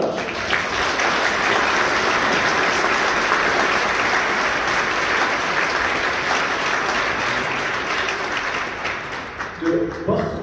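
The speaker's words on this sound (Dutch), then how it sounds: "Graag een applaus" Audience applause in a large church during a Christmas concert, dense sustained clapping filling the space for about ten seconds before tapering off, with a speaking voice coming in at the end.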